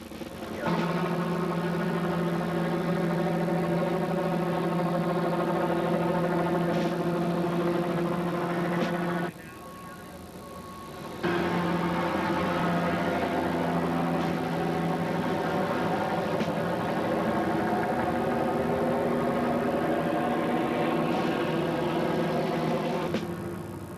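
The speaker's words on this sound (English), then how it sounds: "Police use a 6-ton armored vehicle to move a SWAT team in the area where a sniper is reported to be" A 6-ton armored police vehicle's engine idles close by with a steady, loud harmonic rumble, briefly dropping off around the middle before resuming at full strength, with no talk.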